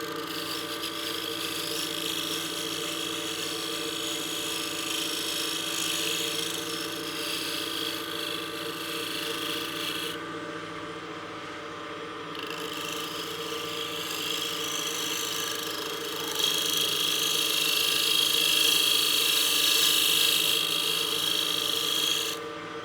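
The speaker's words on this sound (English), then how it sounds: "Now I'll use my skew just to refine that just even more." A skew chisel refines a curve on a utility box spinning on a wood lathe, producing a steady, loud continuous hiss and rasp of cutting wood over the motor's hum, with brief lighter pauses and a brighter stretch later.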